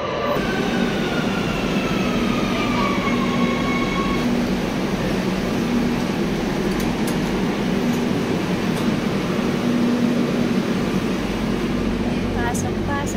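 A train rolls past close by, loud and continuous with rumbling wheels and a faint squeal, while people talk nearby.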